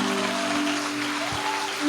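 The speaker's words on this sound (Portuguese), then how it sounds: "Aplauda Jesus aí." Congregation applause during a church service, a dense, even patter of clapping heard alone, with a low hum under it and a small bump at the very end.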